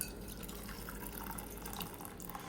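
Hot water pours steadily from a Zojirushi 4.0-liter electric kettle's dispenser, a continuous close splashing trickle into a cup, with no talking.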